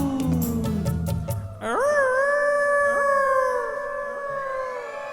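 A male performer's voice imitates a fox or jackal howling during a storytelling song, rising into a long, wavering, drawn-out howl that sustains and slowly fades. A brief jumble of voiced sounds comes just before it.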